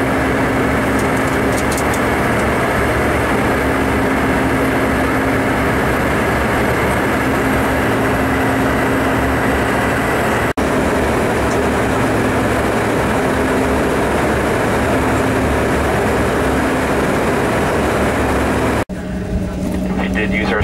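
Steady loud engine drone inside an Air Canada airplane cabin in flight, a continuous broadband roar with a low hum, running unbroken for about nineteen seconds before a sudden drop near the end.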